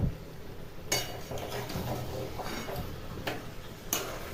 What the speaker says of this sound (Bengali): ধনেপাতাটা এখন মিশিয়ে নেব।